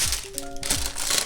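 White tissue paper rustles and crinkles inside a Jordan 7 shoe box with a gold interior, a short close-up burst of papery crackling with a faint tonal hum mid-way.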